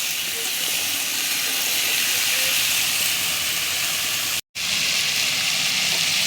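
Potato and pointed gourd pieces sizzle in hot oil in a pan, a continuous loud hiss that breaks off for an instant before resuming just as steadily.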